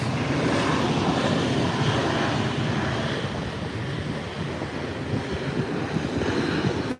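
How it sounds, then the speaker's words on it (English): A Boeing 737 MAX rolls past just after landing, its engines a broad, steady roar close by that holds for several seconds with wind-like rush and no talk. "It's coming by us now. There you have it. The Boeing 737 MAX."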